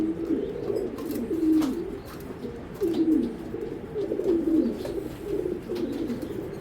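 Pigeons of Belgian, Dutch and German breeds cooing close by in a loft, a series of repeated rolling coos about every second, with faint rustling and no speech.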